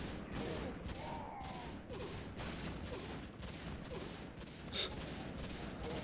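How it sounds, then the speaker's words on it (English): Mass missile barrage in Warcraft 3 Reforged: a dense, continuous volley of rapid impacts and blasts, steady and fairly even throughout, with one sharp bright burst near the end. "Yes, mass missile barrage."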